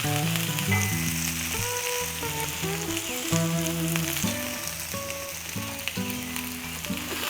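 Thin ham slices fry on a Blackstone griddle with a dense, constant sizzle, while strong background music plays over the crackle throughout and nobody speaks.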